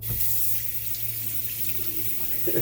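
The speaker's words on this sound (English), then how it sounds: "Well, as cold as this tap can get." Cold water runs steadily from a tap into a sink, a continuous close hiss and splash lasting throughout with no talking over it.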